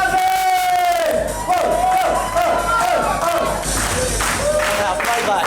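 A loud, dense crowd roars and shouts continuously, with voices rising over a steady wall of noise throughout.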